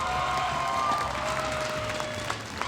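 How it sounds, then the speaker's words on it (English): An esports arena crowd at an M5 knockout match claps in sustained applause, a dense, even wash of hands with faint cheering, steady throughout with a few sharper claps near the end. "give APBR a big round of applause."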